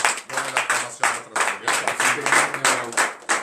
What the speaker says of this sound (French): tu vas te lever sur tes pieds et tu vas lui donner de vive acclamation